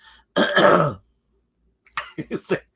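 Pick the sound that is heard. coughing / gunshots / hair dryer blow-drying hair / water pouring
coughing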